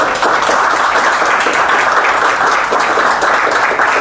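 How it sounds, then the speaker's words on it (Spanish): An audience at a talk on the manatee in Mexico gives steady, dense applause that stays loud and even from start to finish, with no voices on top. "Quiero pedirles un aplauso, por favor, para Héctor."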